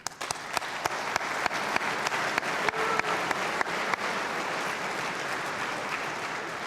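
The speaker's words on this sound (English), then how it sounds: "And we should probably clap for them right now." An audience at a junior college commencement ceremony claps, a few sharp individual claps at first building into steady, sustained applause that continues evenly to the end.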